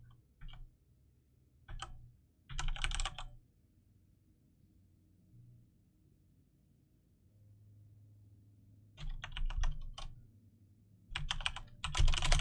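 Bursts of typing on a computer keyboard, close and fairly quiet, come in clusters of rapid clicks separated by stretches of near silence.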